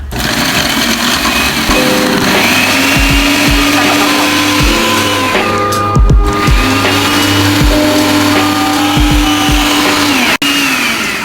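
A kitchen blender labelled Labour Saving Device whirs loudly as it chops up fruit, a strong motor whine that rises and dips in pitch through several pulses and stops briefly near the end.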